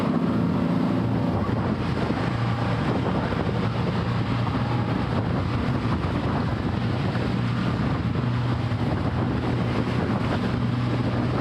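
A small boat's motor roars steadily as it crosses a sandbar over waves, loud and close under constant wind rush and water spray, with no voices heard.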